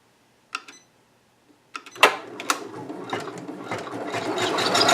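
A Janome MB4 multi-needle embroidery machine starts up after a short pause with a few clicks, then stitches steadily in a fast, rattling mechanical rhythm that grows louder toward the end.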